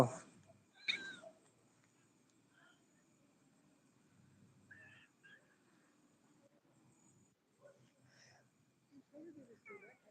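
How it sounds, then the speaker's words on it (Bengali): Several cats indoors give a few short, faint meows at scattered moments, with a person talking quietly in between. "দেখো কি পরিমানে বিড়াল দেখো"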